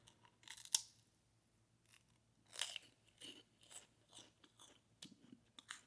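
Crunchy fried pork skin snack being bitten and chewed close up, a series of sharp crackling crunches spaced irregularly, alone with no talking.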